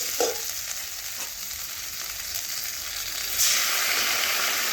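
Chopped tomato added to onions frying in oil, a bright continuous sizzle that jumps louder near the end as the pan hisses up, close and steady with no talk.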